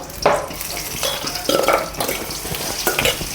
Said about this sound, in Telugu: ఎప్పుడు సిమ్లో పెట్టుకొని ఒక్కొక్కటి తిప్పుకుంటా బాగా బ్రౌన్ కలర్ వచ్చేదాకా గోల్డెన్ బ్రౌన్ కలర్ వచ్చేదాకా ఫ్రై చేసేసుకోవాలి